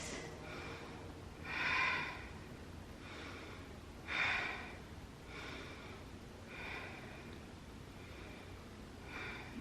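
Slow, deep breaths during a yoga hold come as soft, airy inhales and exhales in a steady rhythm, close and quiet, with two fuller breaths standing out near the start.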